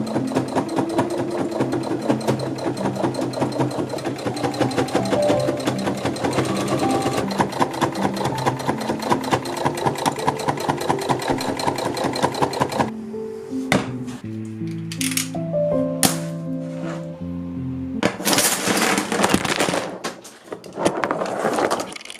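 Sewing machine stitching a corset, running in a fast, steady, loud mechanical whir for about thirteen seconds, then stopping and starting in short bursts with clattering handling noises between.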